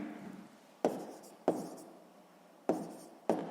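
A pen scratches out a sixth-grade math solution on paper, four distinct strokes each starting with a sharp scrape and then trailing off, set apart by brief pauses.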